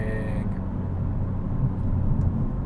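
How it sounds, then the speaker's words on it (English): A 2022 Hyundai Elantra N engine blips its revs while downshifting on a test drive, a low steady rumble from inside the cabin that rises slightly toward the end. "rev matching."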